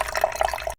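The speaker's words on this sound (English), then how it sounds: "Add the water." Water poured into the tank of a LEGO live fish transport train, a short steady splashing fill that cuts off abruptly.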